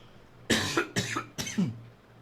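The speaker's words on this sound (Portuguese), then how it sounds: "Espera aí que eu vou tossir mais um pouco." Three harsh coughs, close to the mic, spaced roughly half a second apart, each a sharp burst fading quickly, with quiet room tone between, recorded on a Fifine AM8 or K669D microphone.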